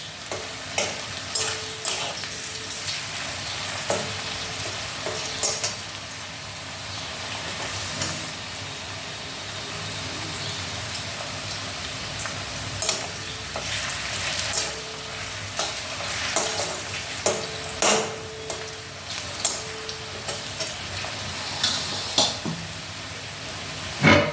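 Food frying in a pan ahead of being added to pumpkin, a continuous sizzle with frequent scraping stirs and clinks of the utensil over a long stretch.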